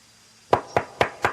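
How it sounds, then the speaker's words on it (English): Four sharp knocks on a hall door, evenly spaced and close by, ringing out alone against a quiet room. "we were startled by a knock at the hall door."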